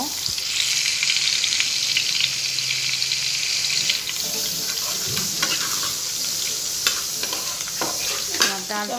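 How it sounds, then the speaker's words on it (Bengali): Onion and garlic hit hot oil in a pan, giving a loud, continuous close sizzle with occasional clinks and stirring scrapes, while running water from a tap carries on alongside the frying. "তেলটা গরম হয়ে গিয়েছে তো আমি দিলাম পিঁয়াজ আর রসুন দিয়ে এখন শাকটাকে বাগার দিব"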